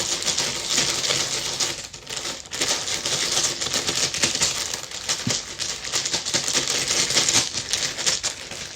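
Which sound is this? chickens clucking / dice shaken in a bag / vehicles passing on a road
dice shaken in a bag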